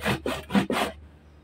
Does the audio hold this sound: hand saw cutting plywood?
yes